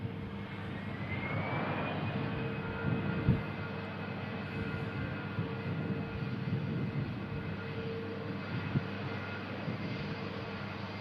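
An airliner touches down steadily on the runway, its engine roar broad and continuous from start to finish, with a high whine gliding upward early on and a brief thump of the wheels meeting the tarmac near the three-second mark.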